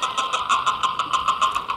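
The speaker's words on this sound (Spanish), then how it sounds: "¡Ay, viene el carro!" A car engine hums at close range with a steady, rhythmic pulsing throb and a prominent tonal whine, clear and fairly loud with no talking over it.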